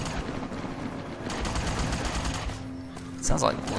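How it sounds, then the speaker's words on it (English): Dense rapid bursts of laser fire in the game Fallout New Vegas, a crackling barrage at moderate distance, steady throughout with a sharper burst near the end. "Sounds like laser fire."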